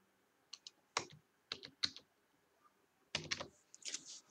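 A captcha code is entered on a computer keyboard: sparse individual keystrokes and then a quicker burst of clicks, close and clear against near silence.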